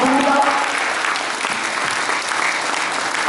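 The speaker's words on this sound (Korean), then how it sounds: "다시 한번 뜨거운 박수 부탁드립니다" Audience applause fills a hall at a Korean political party's provincial founding convention, held in a wedding and convention venue in Gumi: dense, sustained clapping from a large crowd, close and loud, continuing steadily without a break.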